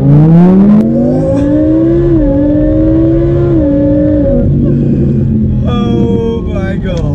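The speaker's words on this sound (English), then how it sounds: "going to do a launch control for us in this car, so this is going to be fairly brutal" A Lamborghini Huracán launches hard, its engine bellowing loud and close as the revs climb through rising harmonics, dipping at each quick gearshift before pulling again; a voice speaks briefly over the roar.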